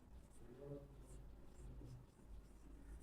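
Chalk or marker strokes on a classroom board during a physics revision lesson, faint scratchy taps at a steady pace, with a voice speaking quietly underneath.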